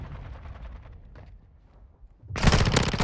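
Gunfire in Call of Duty Modern Warfare II multiplayer erupts after a quieter stretch, a loud close burst of rapid automatic shots filling the last half of the moment.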